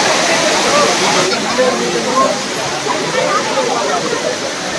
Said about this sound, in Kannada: ಬಾಹುಬಲಿ ಫಾಲ್ಸ್ ಥರ ಇದೆ.